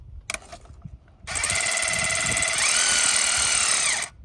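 Power tool with a 10mm attachment loosening intake manifold bolts on an Acura ZDX, a few light clicks, then one loud, close, sustained high-pitched whirring burst of about three seconds that stops abruptly.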